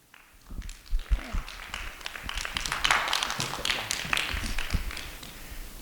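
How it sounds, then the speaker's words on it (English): Audience in a fashion-school talk hall clapping as a guest comes up to the stage, a scattered start swelling into steady applause for several seconds with no voices over it. "You guys can clap better than that."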